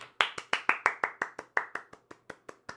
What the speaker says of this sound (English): And so a round of applause.